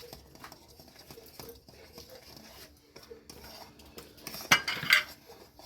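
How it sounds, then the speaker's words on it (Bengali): Utensil scraping and clinking in a pot as rice flour is stirred into boiling water and orange juice, soft intermittent stirring scrapes building to louder metallic knocks near the end. "এবার আস্তে আস্তে চালের গুঁড়োগুলো দিতে থাকবো আর আস্তে আস্তে নাড়তে থাকবো।"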